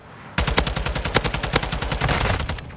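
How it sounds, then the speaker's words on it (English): Rapid automatic gunfire in Modern Warfare 2 rattles out in a dense burst of about a dozen quick shots, loud and close, with no voices over it. "I put 7 shots into that guy."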